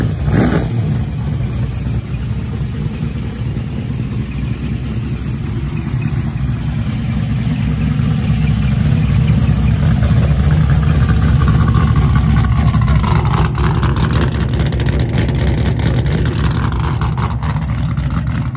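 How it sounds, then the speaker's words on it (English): A street-legal car with a stock-block 6.0 LS engine drives away, its loud rumbling exhaust running continuously with rising revs, close at first and steady throughout. "Tony's taking Kristen out in Little Lethal right now"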